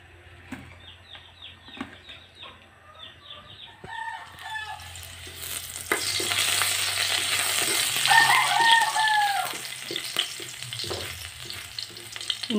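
Oil heating in a cooking pan before making spaghetti, a steady close frying sizzle that swells after the first few seconds, with a rooster crowing faintly in the background.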